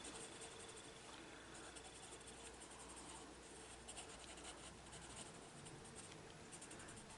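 Arteza colored pencil scratching steadily across paper during adult colouring of a Christmas page, a soft continuous scribbling rasp with no pauses, close and fairly quiet.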